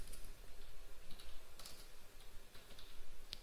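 Quick, steady keystrokes on a computer keyboard as JavaScript code is typed, light irregular clicks close to the mic over a soft background hiss, no talking.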